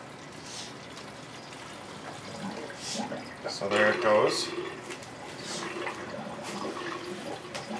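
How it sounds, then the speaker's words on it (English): Water runs through a filter into a 5-gallon tub for a saltwater aquarium water change, a steady splashing rush swelling midway, with a person speaking briefly over it. "Now I'm going to go ahead and fill up my 5-gallon tub here."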